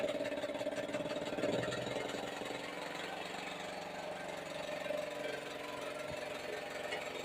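The engine of a papad-making machine at a small papad workshop in Chalisgaon, Jalgaon, being started on a cold day; a continuous mid-pitched mechanical running and knocking drone, fairly close and steady, with a brief heavier burst early on.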